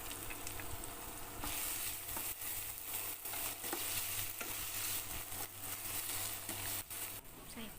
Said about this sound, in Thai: เทน้ำมันลงกระทะค่ะ ใส่หอมแดงลงเจียวให้หอมค่ะ